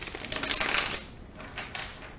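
Tarot cards riffled and shuffled by hand, a crisp papery flutter that swells early, then gives way to softer slides and taps, close and alone without talk.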